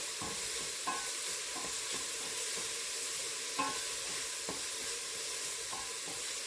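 Onion and garlic fry in a pot of oil with a steady bright sizzle, broken by repeated scraping stirs of a utensil, close and fairly quiet, with no talking.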